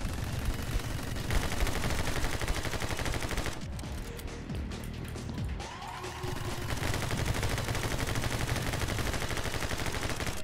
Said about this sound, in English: We're gonna wait until it starts shooting.